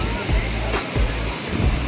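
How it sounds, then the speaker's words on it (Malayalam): Lyngksiar Falls in Cherrapunji, Meghalaya, spills down in three tiers, producing a steady, full roar of crashing water heard up close, with faint pulsing gusts riding over it. "3 തട്ടുകളായിട്ടാണ് ഈ വെള്ളച്ചാട്ടം താഴോട്ട് പതിക്കുന്നത്."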